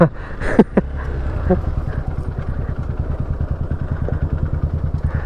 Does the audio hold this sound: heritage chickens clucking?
no